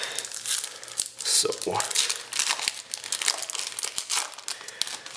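Crinkling, tearing foil as a trading card pack from a Cliff and Avalanche unboxing is ripped open up close, crackling continuously while a person speaks briefly.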